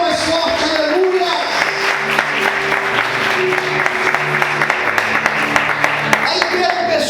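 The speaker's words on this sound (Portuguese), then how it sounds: "Aplauda o Senhor mais forte, aleluia." Church congregation applauding during an evening worship service, a steady dense wash of clapping throughout with music or voices underneath.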